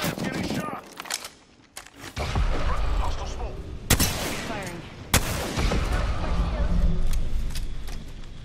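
Bursts of automatic gunfire and sharp single shots in an Apex Legends firefight, loud and close, mixed with game effects and someone talking over the shooting.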